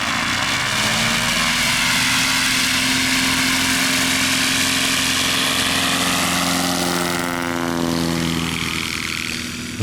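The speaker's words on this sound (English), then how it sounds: "This particular takeoff is going to be a top 30 flap, and we'll see how the takeoff" A Cessna Skywagon fitted with big tires, set to 30 degrees of flap, roars loudly through its takeoff roll. The propeller engine drones steadily at full power, and its pitch shifts toward the end.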